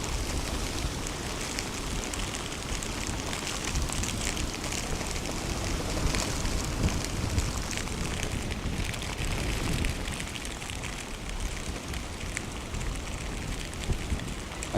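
Steady wind buffeting and rain hiss outdoors at Dublin Airport, a continuous rough broadband rush that swells slightly midway, with no voices over it.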